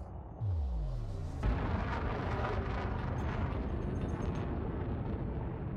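A chaff launcher fires in the space combat game Elite: Dangerous, a loud booming discharge with a falling whine, followed by a sustained dense rumble that fills the rest of the moment.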